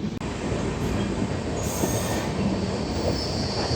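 A Himgiri Express train bound from Jammu Tawi to Howrah rushes past close by on the opposite track, a loud continuous roar of wheels with squealing rail noise and a steady rumble throughout.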